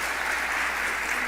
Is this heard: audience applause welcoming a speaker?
yes